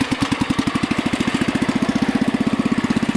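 A Husky 600 engine runs steadily with a fast, even chugging pulse throughout, close by and loud, with no one talking.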